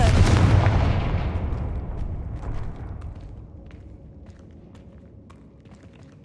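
A Confringo blasting spell goes off in Hogwarts Legacy with a loud, close blast right at the start that rumbles and slowly fades over several seconds, followed by scattered light taps and footsteps.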